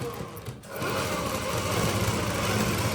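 Sewing machine stitching the side seam of a blouse, running in a continuous fast whirring stream after a brief pause at the start, close and steady.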